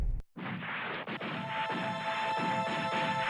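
A heavy iron siege cannon, the great basilica gun at the siege of Constantinople, fires with a sharp loud crash after a brief silence, followed by a long rumbling roar and debris-like rattles that sustain without fading.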